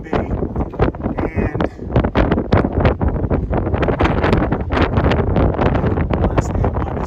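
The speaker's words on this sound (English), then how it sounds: "I don't know if you can hear it, but it's windy as can be." Strong gusting wind on an exposed mountain ridge in Grayson Highlands, roaring and buffeting the microphone almost continuously, with a brief spoken word barely audible beneath the rumble.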